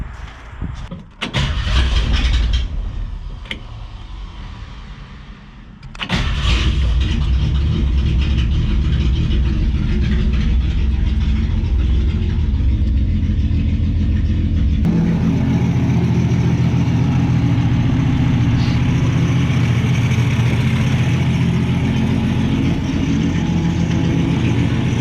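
1965 Mustang restomod engine cranking and firing up, then settling into a steady, loud idle; a few sharp clunks and a brief crank come first, and the running engine drones on without a break to the end.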